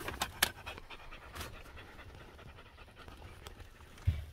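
Dogs pant steadily and close by at a campsite, a soft breathy rhythm with a few sharper bumps and no talk.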